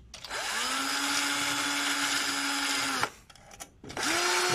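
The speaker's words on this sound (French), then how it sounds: "je change la brosse de ma visseuse" A cordless drill spinning a wire brush against corroded trailer light connectors runs steadily at close range for about three seconds, stops, then starts up again briefly, with no voices.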